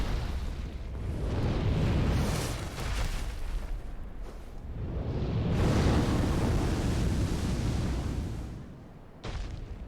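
Roaring fire blasts from a dragon engulfing the player in Dark Souls, two long loud surging whooshes with heavy low rumble, cut by a brief burst near the end.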